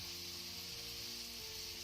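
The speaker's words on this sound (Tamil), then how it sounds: "இப்போ தக்காளி கூட சேர்த்துக்கலாம். சேர்த்து நல்லா வதக்கி விட்டுக்கலாம்." Tomatoes sautéing in a hot pan for tadka dal, with salt added, give a steady, close broadband sizzle that holds evenly throughout with no talking.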